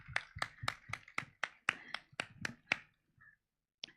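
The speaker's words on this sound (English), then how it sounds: "Can we have a round of applause for him," Audience applause at an evening stage event: a burst of about ten sharp, irregular hand claps over roughly three seconds, fairly close and clear, then fading out with a couple of stray claps.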